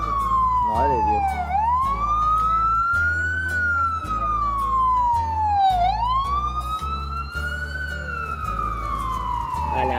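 An ambulance siren on a New York street wails up and down in long, loud, close sweeps over a low rumble of traffic.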